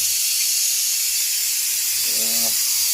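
Puchka (fuchka) shells fry and puff up in hot oil with a loud, steady, broad sizzling hiss that runs unbroken throughout, and a brief faint tonal sound rises near the end.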